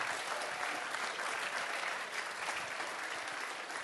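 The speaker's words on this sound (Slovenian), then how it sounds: "In ta Slovenija v malem vam zdajle namenja veliki aplavz" Big, sustained round of applause from a crowd at a party rally and family day, dense and even from start to finish with no speech on top.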